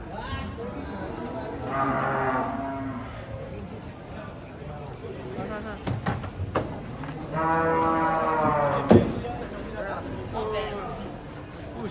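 Humped cattle are unloaded from a truck, with a few deep lowing calls and scattered knocks rising over a steady murmur of people talking nearby.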